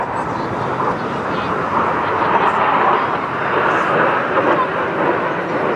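A jet aircraft flies at the English Riviera Airshow, slowing down for a slow roll. Its broad, steady engine roar fills the whole clip, loud and sustained without a break.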